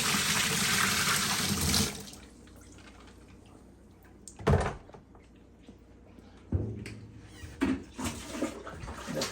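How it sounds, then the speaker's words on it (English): Water drains from an LG washing machine with a drain fault into a bucket and sink, a loud gushing pour at first that gives way to quieter trickles, drips and a few sharp splashes and knocks. "I'm just draining it into the sink."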